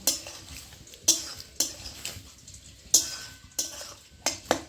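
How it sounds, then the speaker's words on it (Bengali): A spoon scrapes and clanks against a kadai as snails are stirred to dry off their water, about eight sharp strokes in an uneven rhythm over a faint background sizzle. "ভালো করে নাড়াচাড়া করে শামুকের জলটাই কড়াইয়ের মধ্যে শুকনো করে নেব।"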